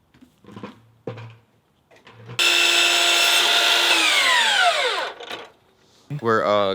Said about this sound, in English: We're cutting the deck boards.